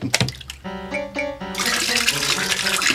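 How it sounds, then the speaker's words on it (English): Water is poured into a bath, a steady loud rush of liquid that becomes a continuous broad splash in the second half after a brief tonal passage at the start. "Oh, shut up and keep pouring water."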